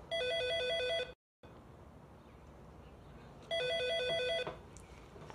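A telephone rings indoors in two electronic bursts of warbling tones about two seconds apart, with a short dead pause before and quiet room tone between rings; nobody speaks.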